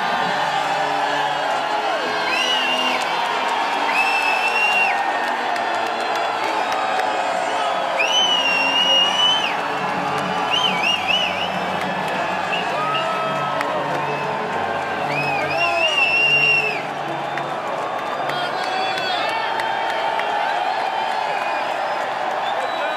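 A large crowd at a military academy graduation ceremony claps and cheers, with whoops and shouts rising over sustained applause, while a voice talks over part of it.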